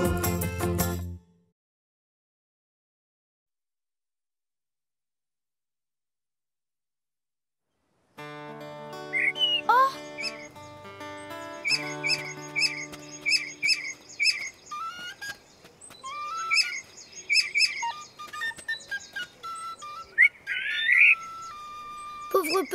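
A small cartoon bird chirps and tweets in quick, bright whistled phrases over soft animated-series music, following a brief sound and a long silence.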